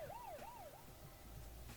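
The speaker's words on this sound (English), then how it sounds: "Must be a police car behind me." Police car siren in Euro Truck Simulator 2, a wailing rise-and-fall tone that sweeps up and down twice before fading, heard faintly over the low drone of the truck engine.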